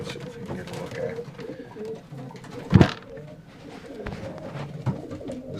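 Racing pigeons coo softly in a loft, several low murmuring coos over a close ambient rumble, with one sharp loud burst of flapping or movement midway.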